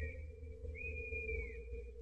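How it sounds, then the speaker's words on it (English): A screech owl calls with a thin, sustained whistle that rises slightly and then trails off, heard against a low steady background rumble. No one speaks. "screech owl. Screech owl."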